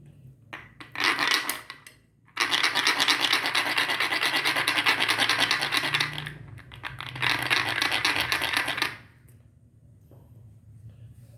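Scrubbing the ridged bottom of a condiment bottle, a close, loud scratchy rasping in a short burst and then two long stretches of steady scrubbing, with quiet pauses between them.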